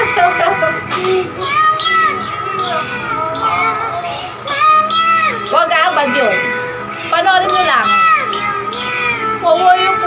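A cat meows in drawn-out, wavering cries that rise and fall, repeated several times and fairly close, with some background voices.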